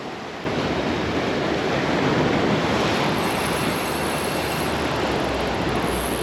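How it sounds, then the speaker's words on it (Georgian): Big ocean waves break and churn against a rocky shore during rock fishing, a continuous loud roar of surf that swells after the opening moment, with no voices. "ძალიან დიდი ტალღებია"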